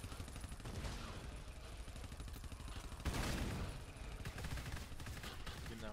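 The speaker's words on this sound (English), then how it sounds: "The turret's going off!" An automated sentry turret in the co-op horror shooter GTFO fires in a continuous rapid rattle, steady throughout and swelling briefly partway, mixed with clattering game noise.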